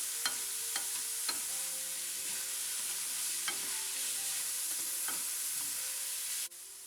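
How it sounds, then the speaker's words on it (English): A spoon stirs vegetable filling in a hot pan, giving a soft continuous sizzle with a few sharp metallic clinks and scrapes near the start, then cutting off suddenly at the end. "We don't want to overcook it, so just mix it well and turn the flame off."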